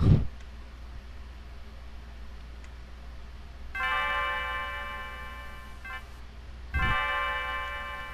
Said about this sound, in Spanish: Me está sonando la campana.